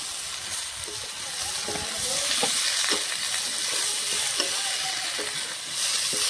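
Browned potatoes and added broccoli sizzle and crackle in a pan, a dense continuous fry with repeated utensil stirring knocks at close range.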